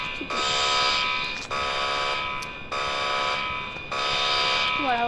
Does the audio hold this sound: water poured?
no